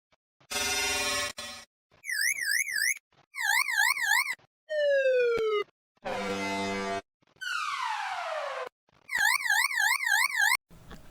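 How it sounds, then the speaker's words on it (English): A series of distinct electronic alarm tones plays one after another: buzzing blasts, warbling siren wails, and rising sweeps, each separated by brief silence. "Those are the preloaded alarm sound in the system."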